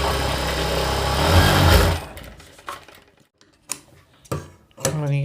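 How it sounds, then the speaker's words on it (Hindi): A sewing machine runs a double line of stitching along a blouse shoulder seam, a loud steady mechanical whir for about two seconds that then stops, followed by quieter handling clicks and bursts of talk. "अब इस पर डबल सिलाई लगा देते हैं"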